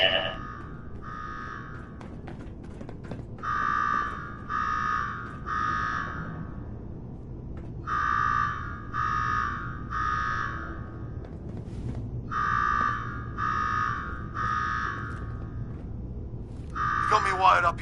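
Repeating electronic alarm in Fallout 4 blares in evenly spaced bursts of three beeping tones with short gaps between groups, over a low background rumble, with a brief louder tone near the end.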